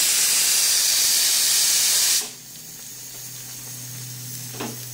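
A loud, continuous steam hiss pours from a pressure cooker's whistle as dal khichuri cooks, then cuts off abruptly, leaving a quiet kitchen hum and a faint clink.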